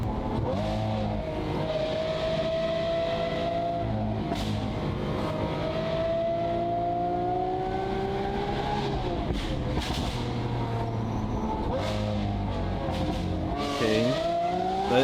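Lamborghini Aventador Ultimae with a valved Valvetronic exhaust, loud and steady engine noise with rising and falling revs throughout, close by, with sharp crackles and pops standing out near the middle and end.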